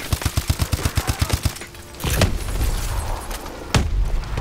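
Rapid automatic gunfire from Call of Duty Advanced Warfare rattles in a fast burst, followed by heavy booming explosions and rumbling blasts, loud and close, with a second sharp impact near the end.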